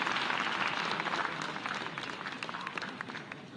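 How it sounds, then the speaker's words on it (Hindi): An audience at an environmental event in Ravindra Bhavan applauds loudly, a dense crowd of clapping hands that holds strong and then slowly tapers off. "जोरदार तालियों से अभिवादन करें।"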